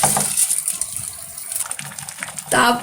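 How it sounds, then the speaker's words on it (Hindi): A hissing, bubbling rush of boiling water with a soft pour of rice, then a louder splash near the end, no talking. "ये पानी उबल रहा है, चावल डाल रही हूँ।"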